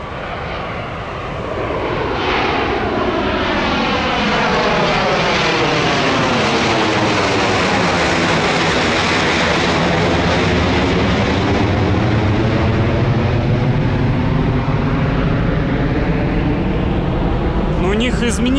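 A passenger airplane takes off near Sochi, its engine roar swelling from a distance into a loud, sustained rumble and whine as it passes. People talk briefly over it.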